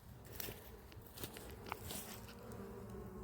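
Honeybees at an apiary hive give a steady, close buzz with faint ticks and crackles mixed in.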